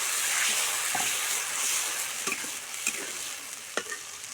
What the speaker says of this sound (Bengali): দিয়ে টমেটোটা ভালো করে কষাই নেব।